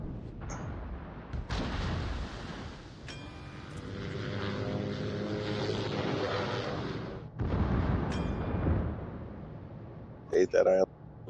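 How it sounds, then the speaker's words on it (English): Warship guns fire in a naval combat video game. Heavy booming blasts break out over a low, constant engine hum, with a few sharp reports spaced several seconds apart. "my guns fire"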